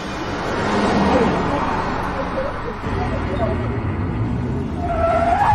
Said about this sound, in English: Oh no, the brakes failed.